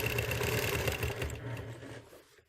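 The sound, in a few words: sewing machine stitching a quilt block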